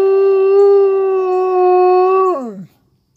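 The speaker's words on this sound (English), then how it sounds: "Yeah, she does have a really pretty howl." A wolfdog lets out a single long, tonal howl that holds steady for over two seconds, then bends downward and trails off, close and loud with no talk over it.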